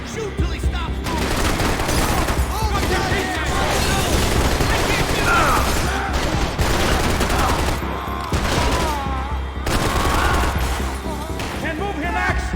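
Sustained rapid gunfire and bursts from a firefight in the video game Max Payne 3, loud and dense throughout with booming impacts, and voices shouting over the shooting.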